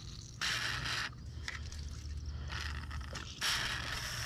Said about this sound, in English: that's just cold compressed air from my penetrating oil